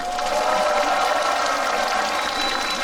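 Steady, dense applause from a concert audience at a trot singer's stage show, a continuous wash of many hands clapping at even loudness throughout, with no voices standing out.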